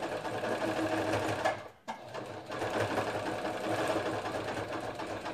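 A sewing machine run by a foot pedal hums steadily and close by, breaking off for a moment partway through before running on evenly to the end.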